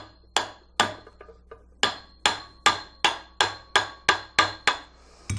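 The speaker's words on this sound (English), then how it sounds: "So usually just tap that on." A hammer taps a bearing onto a shaft during a bearing replacement: about a dozen sharp metallic knocks in a fairly steady rhythm, close and clear with no talking.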